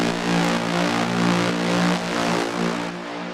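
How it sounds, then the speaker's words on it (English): A dense techno atmosphere drone, heavily EQ'd and drenched in long reverb, hums as a steady washed-out tonal bed with slow swells, alone and fairly loud. "I think it's the same drone that I used for the breakdown"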